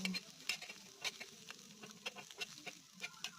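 A spatula stirs bhujia in a pan, producing faint, quick scraping clicks and taps in an irregular rhythm over a low, soft sizzle, with no talking.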